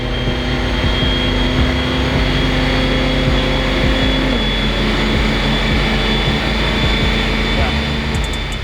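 Steady loud engine drone of a C8 Corvette on an all-wheel-drive dyno, holding high revs then the pitch drops partway through as it winds down in neutral, constant and close throughout.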